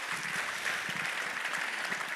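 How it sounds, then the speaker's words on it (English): Brief, faint round of audience applause for a panel at a conference on electric trucks, a soft steady patter of clapping heard from a distance. "Please give them an extra round of applause."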